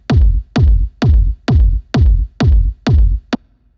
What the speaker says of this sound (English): So we have the kick drum, which sounds like this.